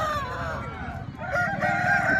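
Roosters at the Nallapadu chicken market crow in drawn-out calls, one after another, over a steady murmur of the crowded market.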